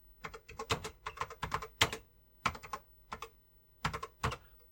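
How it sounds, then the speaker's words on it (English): A TRS-80 computer keyboard being typed on, with bursts of brisk keystrokes clustered in short runs separated by brief pauses, close and fairly clear with no talking. "completely blind typing here."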